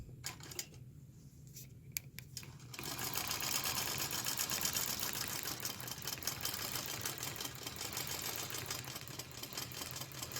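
A Butler Robotics embroidery machine basting down one side of a quilt in a clamp, starting quietly and then settling after about three seconds into a loud, steady, rapid mechanical stitching whir with fine ticking that runs to the end.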